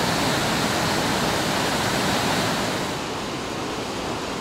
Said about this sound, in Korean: 엄청난 수량과 힘으로 보는 이를 압도하는 인상적인 폭포입니다.